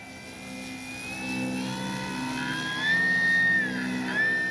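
A FLEX RV-8 60E G2 RC plane cruising past with a steady electric motor whine, rising and falling in pitch as it passes, moderately close and heard alone.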